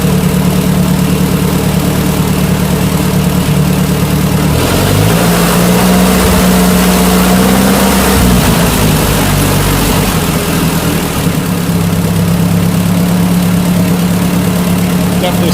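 A smoky Ford 8N tractor engine idles steadily with a low, throbbing chug, revving briefly midway before settling back to a rough, constant idle.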